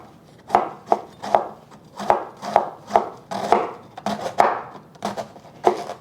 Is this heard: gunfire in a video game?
no